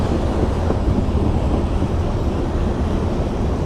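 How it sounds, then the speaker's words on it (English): A freight train hauling pipe rumbles past in downtown Cleveland, a loud, dense, continuous roar filling the whole clip, close by with wind buffeting the microphone. "Train coming through."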